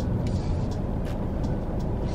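A car rolling along a road, heard from inside as a steady low rumble of engine and tire noise with faint ticking, continuous and even for the short span, no speech.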